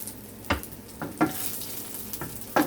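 Onions sizzle in a pan on the stove with a soft, steady frying hiss. Several sharp scraping or stirring clicks land at irregular intervals over it.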